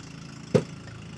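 A fishing boat's engine idles off the coast at Lobo, Batangas, a low steady hum with one sharp knock partway through, distant and alone.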